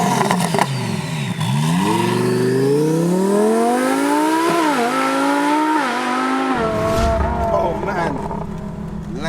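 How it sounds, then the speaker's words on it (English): A twin-turbo 1200 bhp Lamborghini Huracan accelerates hard, its loud engine note climbing steadily through the revs with a brief shift dip before easing off into a lower rumble. "Lamborghini Huracan twin turbo."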